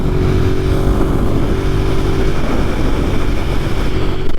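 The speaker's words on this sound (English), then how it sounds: "friggin' V-twin, man, you can really just leave it in one gear" Ducati Monster 1200S V-twin motorcycle engine droning steadily at a constant pace while riding in one gear, loud and close with heavy wind rush and no speech.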